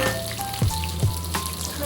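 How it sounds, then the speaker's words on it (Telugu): Sliced onions sizzling in oil in a pan while being browned for a chicken curry, a steady frying hiss with a couple of soft stirring bumps. "ఉల్లిపాయలు కొంచెము బాగా కలర్ చేంజ్ అయ్యే వరకు వేయించుకోవాలి"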